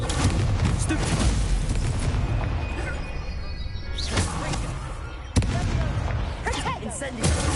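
Spell blasts from casting Stupefy in the Hogwarts Legacy video game, a dense run of loud magical bursts and booms with a sharp crack near the end, layered with game effects and intermittent voices.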